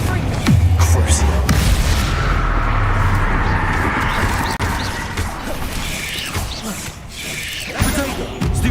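Booming spell blasts from the Hogwarts Legacy video game, the Confringo explosive spell, hit as dense rumbling impacts amid continuous combat noise for most of the stretch, with loud crashing bursts near the start and end.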